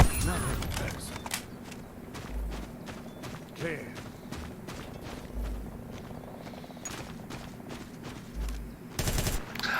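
Rapid gunfire from a weapon in the multiplayer FPS game Ballistic Overkill, with bursts of automatic shots and single cracks over about ten seconds, mixed with running footsteps and a steady game hum.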